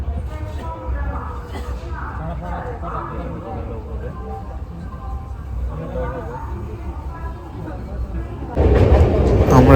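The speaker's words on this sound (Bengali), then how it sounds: "ঘন কুয়াশার মধ্যে ট্রেন ছুটছে একদম পুরো ম্যাক্সিমাম স্পিডের থেকে একটু বেশি গতি নিয়ে" The Gour Express, a Sealdah–Malda Town passenger train hauled by a Sealdah P7 locomotive with LHB coaches, running fast through fog at night, a low continuous rumble under someone talking, then a sudden louder roar near the end.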